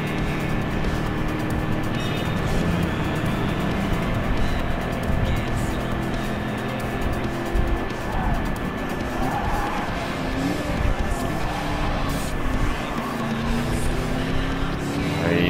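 Race cars in a Clubman Cup video game race drone with continuous loud engine roar, punctuated by tire squeals and skids as cars pass and corner.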